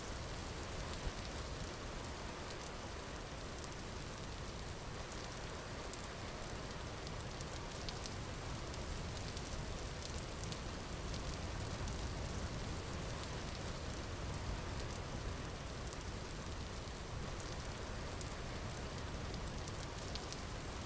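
Steady rain falls in the survival game Vintage Story, a dense, even hiss of drops hitting surfaces that holds at the same level for the whole stretch, with no voices.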